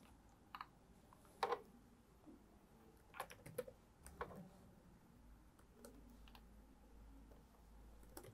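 Typing on a computer keyboard while writing a Python program: scattered, quiet key clicks in short irregular bursts with pauses, close but faint, no talk.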